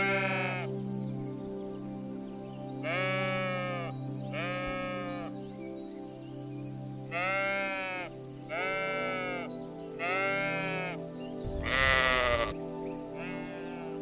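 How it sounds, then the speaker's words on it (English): A sheep bleating repeatedly, about seven wavering cries spaced a second or two apart, close and clear over a steady low background hum, with one harsher burst near the end. "A sheep."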